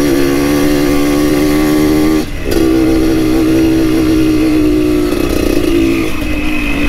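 Scooter engine droning loudly and close while riding along a rough, rocky dirt road, a steady mid-pitched hum with a brief dip in throttle partway through and rattling clatter underneath.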